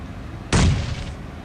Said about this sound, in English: Seems like the bomb is falling very near to me